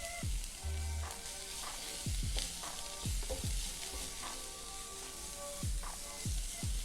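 Garlic sizzles steadily in a hot frying pan while a utensil scrapes and stirs it in repeated knocks, close and fairly quiet, with no talking.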